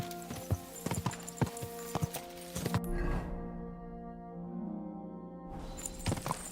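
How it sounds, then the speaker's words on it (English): A horse's hooves clip-clop in Kingdom Come Deliverance 2, a run of steady close hoof strikes on hard ground that pauses for a few seconds before resuming. "What an ugly old nag."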